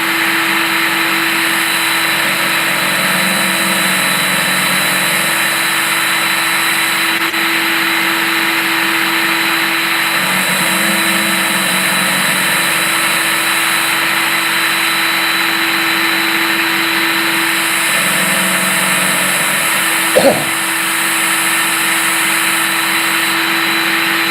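A power tool grinds a burr off metal while a jaw harp is being made, a loud continuous whine and drone held steadily for the whole stretch, with a sharp clunk near the end.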